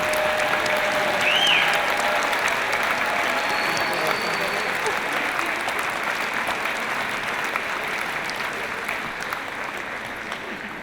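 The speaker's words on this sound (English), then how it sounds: "Let's give them all a big round of applause." A big crowd at a UCLA doctoral hooding ceremony gives a long, steady round of applause that holds level and eases off slightly near the end, with a few voices mixed into the clapping.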